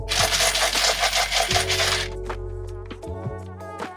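A handful of coins clatters and jingles into a piggy bank, followed by a few scattered metallic clinks and ringing settles.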